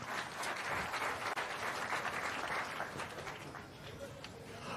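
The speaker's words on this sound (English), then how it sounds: "Another round of applause for Kisumu Boys High School." An audience in a school hall gives sustained applause for Kisumu Boys High School, a thick, continuous roar of clapping that holds steady throughout, with voices mixed into the crowd noise.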